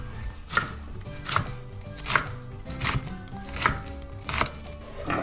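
A knife slices asparagus into thin rings on a cutting board, giving six or seven crisp, evenly spaced chops at a steady rhythm, close and fairly loud.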